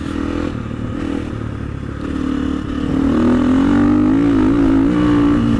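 A trials motorcycle engine, a light, nimble bike in the mould of a 450, runs steadily while being ridden, its low throaty drone holding near and loud before swelling a little louder with a rising rev toward the end.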